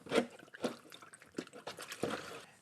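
Water is poured into a plastic milk jug in short uneven glugs and splashes, close and fairly quiet, with a hollow liquid sound and no talking.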